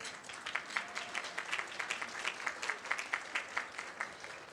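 Audience applause at a charity awards breakfast, many hands clapping in a steady, moderately loud wash with rhythmic peaks throughout, no talking over it.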